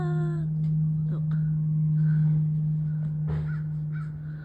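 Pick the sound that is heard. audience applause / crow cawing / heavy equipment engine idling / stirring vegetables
crow cawing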